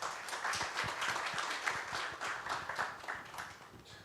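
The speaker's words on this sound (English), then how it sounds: "Please give him a round of applause." An audience at an IT group meet in Nagpur applauds, a steady patter of many hands clapping at moderate volume that holds for about four seconds and then thins out slightly, with no one speaking over it.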